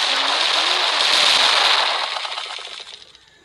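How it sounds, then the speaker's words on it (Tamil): Loud, dense crackling burst of a plastic blast firecracker going off in the Fireworks Play video game, a continuous sparkling rattle that holds strong and then fades out over a few seconds. "பிளாஸ்டிக் பிளாஸ்ட்னா இப்போ அது வெடிக்குது இல்லை"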